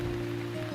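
Rain falls steadily and close by, a soft even hiss with a faint tonal hum running underneath, heard briefly with no one talking.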